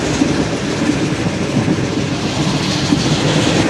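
Zakriya Express passenger train running on rails during a journey toward Multan, a steady loud rumble with rhythmic clickety-clack of wheels over joints, continuous and close, with no talking.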